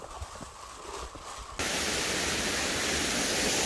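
Cheoncheung Falls, a mountain waterfall in the Yeongnam Alps, roars as a steady broadband rush that jumps suddenly louder partway through and then holds constant, with no voices.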